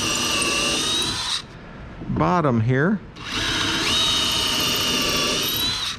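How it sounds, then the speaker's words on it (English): A power drill bores straight down into the bottom of a small cedar chest, whining loudly before and after a short pause in which someone speaks briefly. "Trying to drill straight down, perpendicular to my"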